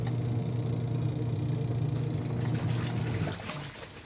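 Water running and splashing steadily while laundry is washed by hand at home in the Philippines, a close, continuous trickling wash that thins out near the end, with no talking.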